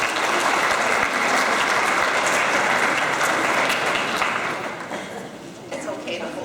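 Steady, full applause from a crowd at an eighth-grade graduation ceremony, with voices murmuring underneath. It holds at a constant level and eases slightly toward the end.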